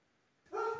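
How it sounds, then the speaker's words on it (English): A dog gives a single short bark in the background after a quiet moment, sharp and fairly near. "my dog's joining in the discussion in the background"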